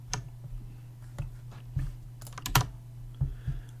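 Computer keyboard typing: scattered, uneven key clicks and taps, close and fairly quiet, with a few louder clustered strikes over a low steady hum.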